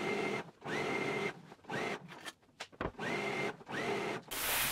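A sewing machine stitches a Simplicity 8843 anorak placket along its basting line in several close, loud bursts with short pauses between them, ending in a brief hiss.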